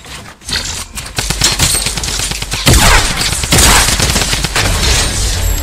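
Rapid automatic Tommy gun fire in a Fortnite Battle Royale build fight, dense bursts of shots with crashes and impacts running almost without pause, loud and close.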